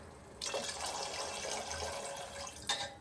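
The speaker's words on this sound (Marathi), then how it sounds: "आता याच्यात ॲड करते पाणी" Water pours steadily from a glass into a pot of dal khichdi for a couple of seconds, a full splashing rush that starts abruptly and ends with a brief final splash.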